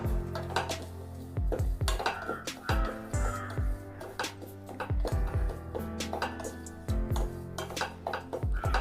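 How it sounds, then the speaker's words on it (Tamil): Semolina being roasted in ghee in a pan for halwa, with a metal spoon scraping and clinking against the pan in irregular bursts, close and moderately loud, while a voice speaks faintly at times. "இப்போ இந்த ரவா போட்டு நல்லா வறுத்துக்கணும்"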